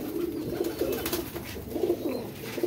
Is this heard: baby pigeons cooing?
yes